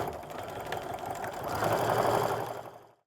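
A sewing machine runs in a short, fast burst while reinforcing stitches on a backpack bag lining, a close, even mechanical whirr that rises a little toward the end before stopping abruptly.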